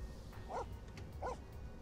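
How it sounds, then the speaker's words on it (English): A puppy in The Sims 4: Cats & Dogs gives two short, evenly spaced yips or barks, moderately close over faint game background sound. "We have a new pup!"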